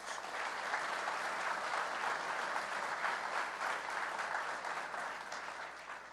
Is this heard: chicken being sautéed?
no